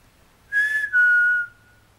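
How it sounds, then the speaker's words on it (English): A person whistles two clear, close notes during a paranormal investigation at the Boston Gliderdrome. The first is held briefly, then a longer second tone slides gently downward and fades, alone in a quiet room. "If I whistle, can you whistle back?"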